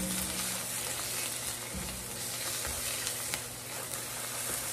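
Masala with Kashmiri red chili powder and black masala frying in a pan, a dense, steady sizzle close up, with a few faint stirring clicks and no talking.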